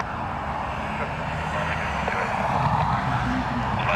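A Dash 8 turboprop airliner at Dublin Airport gives off a steady, fairly distant engine drone with low rumble, continuous throughout and without talk.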